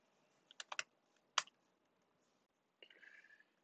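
Quiet computer keyboard typing comes in short bursts: a quick cluster of key clicks, one sharper tap, a pause, then a softer run of keystrokes near the end. No one speaks.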